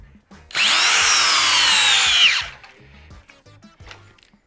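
A DeWalt DCD800 cordless drill runs in a single trigger pull of about two seconds, loud and close with a steady high whine that dips slightly at the end, followed by faint clicks and handling noise.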